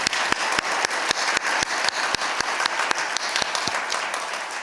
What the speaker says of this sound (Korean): 우리 환영하는 박수 한번 보내도록 하겠습니다